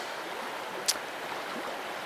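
Stream too deep to ford on the Coire Cruinn ascent, heard as a steady broadband rush of flowing water close by, with one brief sharp click partway through and no voices.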